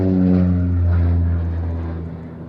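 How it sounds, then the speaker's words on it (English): OV-10 Bronco propeller aircraft making a strafing pass at the Midlands Air Festival, a loud close droning engine with strong steady low harmonics, gradually fading as it passes. "Another strafing pass there."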